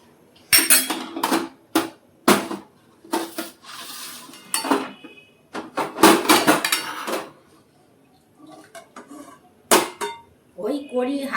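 A utensil scrapes and knocks against a metal pot while food is lifted out, loud close clanks and scrapes coming in bursts separated by brief pauses.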